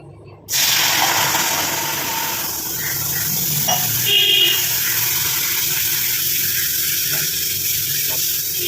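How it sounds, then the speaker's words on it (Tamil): A tumbler of water is poured into a hot, smoky pan on a switched-off stove while making a homemade hair-darkening mix, bursting into a loud, steady hiss and sizzle that continues close by. "இதில் நம்ம ஒரு டம்ளர் அளவுக்கு தண்ணி சேர்த்துக்கலாம்"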